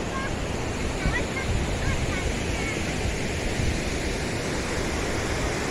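Water rushing below Vandri lake dam, a continuous broad roar of flowing water close by and fairly loud, with faint voices mixed in.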